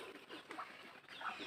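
Farm chickens on a mountainside, just fed alongside piglets, cluck and call in a steady busy chatter close by, with a couple of brighter squawks standing out.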